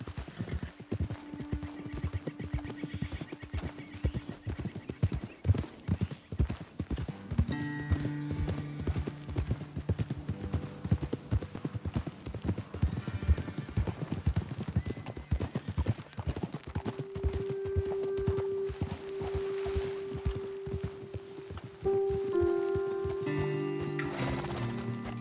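Horses ridden in the game Red Dead Redemption 2, hooves clip-clopping in a steady walking rhythm with occasional whinnies, layered over music and a brief spoken line.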